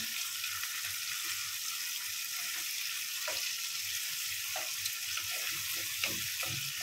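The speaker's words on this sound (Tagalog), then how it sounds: "Then, ilagay na ho natin yung ating tomato sauce." Tomato sauce for spaghetti puttanesca sizzles and crackles steadily in a hot pan, a constant close frying hiss with a few faint stirring knocks scattered through it and no voices.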